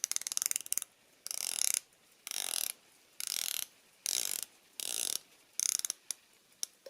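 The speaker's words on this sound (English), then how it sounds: "Very nice bezel action, and we'll hear that." Zelos Mako 3 dive watch bezel being turned in short bursts, each a rapid run of crisp ratcheting clicks, about six separate turns with brief pauses between, close and clear.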